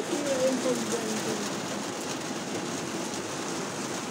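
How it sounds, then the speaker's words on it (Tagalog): Rain falls as a constant broadband hiss, steady and fairly loud throughout, with faint voices murmuring underneath. "May ulan."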